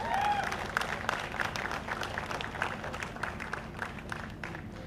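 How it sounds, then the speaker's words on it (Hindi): An audience gives applause at a request for loud clapping, moderate and somewhat distant with scattered sharper claps over a steady crowd wash, fading gradually. "एक और बार मैं आप सभी से रिक्वेस्ट करूंगा जोरदार तालियां हो जाए"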